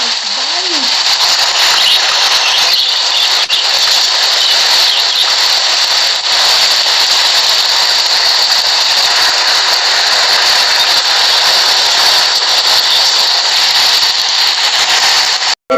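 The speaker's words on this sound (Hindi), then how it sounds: "बारिश की आवाज थी।" Steady, loud rain hisses and patters without a break, a dense wash of falling water that holds for the whole stretch before stopping abruptly.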